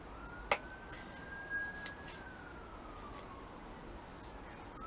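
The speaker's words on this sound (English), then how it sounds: "Always sirens." A faint siren wails in the distance, its tone rising and then slowly falling over a quiet background, with a sharp click early on.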